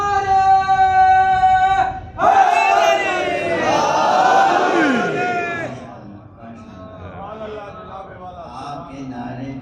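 At a Shia majlis gathering, a large crowd bellows religious slogans in unison after a leader's call, loud massed voices swelling then fading into scattered shouting.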